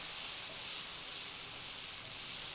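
Dosa batter poured onto a hot tava griddle with low flame, giving a steady, broad hiss and sizzle close by, with no voices.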